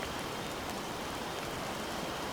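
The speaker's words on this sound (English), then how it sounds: "It is still raining too heavily." Heavy, steady rain pours down continuously, a dense broadband hiss that stays even throughout with no voices over it.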